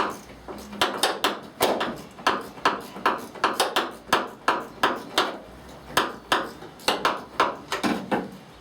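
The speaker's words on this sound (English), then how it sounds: "I've got a small ratchet, which is, feels like it's doing the trick" A small hand ratchet works at crud-covered bolts on a 1970 Ford Mustang Mach 1, giving a steady run of close, metallic clicking strokes in an even rhythm, each with a short ringing tail.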